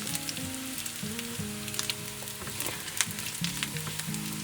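Dried chillies fry in a pan for a Bhutanese dried fish dish, making a close, crackling sizzle with scattered sharp pops. A low tonal hum runs underneath and no one speaks.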